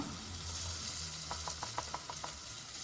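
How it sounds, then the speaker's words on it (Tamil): A fish gravy sizzling faintly in a pan as ground paste is added, a soft steady frying hiss with a short series of small crackling pops partway through, quiet and with no voices. "இப்போ நம்ம அரைச்சி வச்சிருக்கிற விழுதை வந்து சேர்த்துக்குவோம்"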